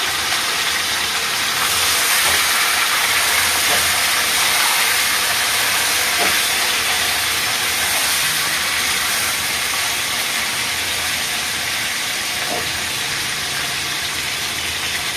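Hilsa fish sizzles in hot mustard oil with dried red chillies for mustard hilsa, a loud, continuous hissing fry with faint occasional pops and clinks throughout.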